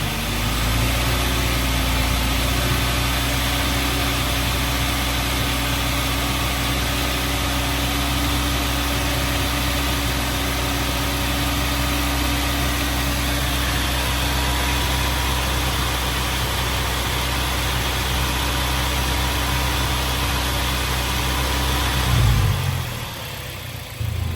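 A manual, supercharged four-cylinder Toyota Tacoma with 300,000 miles holds a steady 2,000 rpm during an oil change, a constant loud hum and drone that drops away abruptly near the end.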